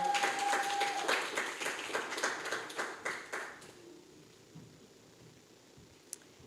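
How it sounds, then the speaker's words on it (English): A small lecture audience claps, sustained briefly then tapering off into scattered final claps and quiet. "Come on, you can clap her better than that"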